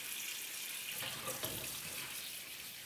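Tap water runs steadily into a kitchen sink while potatoes are rinsed under it, making a constant soft hiss with a brief splashy disturbance midway. It is fairly faint and there is no talking.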